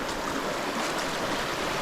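A hiking-trail stream rushes steadily and close by at a crossing on the Eagle Rock Loop, a continuous broadband wash of flowing water with no voices.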